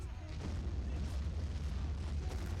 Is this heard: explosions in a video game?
yes